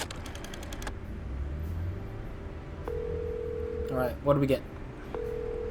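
Telephone dialing in the Chicken Police video game: steady tones mark the dialed digits, with a brief burst of rapid beeping near the end and a person talking over it.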